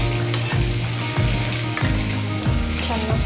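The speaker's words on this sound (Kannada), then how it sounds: "ಇದೆಲ್ಲ ಈಗ ಬಾಣಲಿಗೆ ಹಾಕೊಂಡು ಫ್ರೈ ಮಾಡ್ಕೊಳ್ಳೋಣ" Six chillies and spices fry in hot oil in a pan for chicken pulao, a continuous close sizzle broken by repeated scraping stirs at a steady pace, with no talking.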